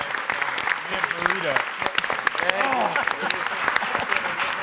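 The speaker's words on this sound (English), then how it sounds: "a huge round of applause for our" Applause from the audience at a Captain America: Civil War press conference, crisp clapping mixed with cheering and voices talking over it.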